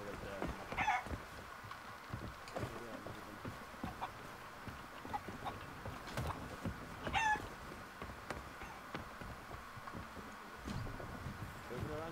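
Chickens cluck in the pirate game Sea of Thieves, with a few short clucks and squawks standing out near the start and again around the middle over steady game ambience and background chatter.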